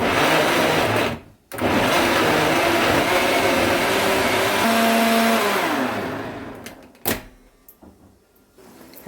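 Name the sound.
blender blending tomatoes for juice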